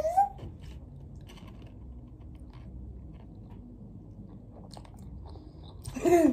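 Biting and chewing Big Babol bubble gum, soft wet mouth sounds running steadily close to the mic, with brief voices at the start and end.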